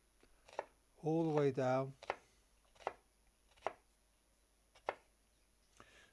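An onion chopped finely with a kitchen knife, sharp single knocks of the blade on the board at a slow, even pace, close and clear, after a brief spoken phrase.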